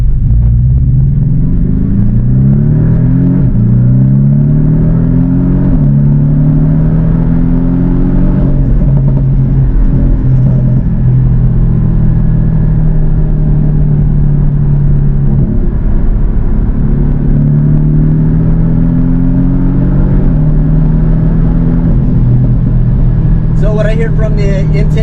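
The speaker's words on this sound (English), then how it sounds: "What I hear from the intake side is I can hear it sucking in air as I'm flooring it." A Porsche Cayman 718 with a flat-four turbo and an aftermarket turbo inlet pulls hard under full throttle in sport mode, engine tone rising through repeated gear sweeps with a constant loud intake rush and road roar from inside the cabin.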